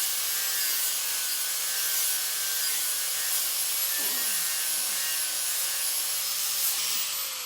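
Steady high-pitched whine of a rotary tool grinding tail feathers into a wood carving, a continuous abrasive buzz with slight shifts in pitch and no talking.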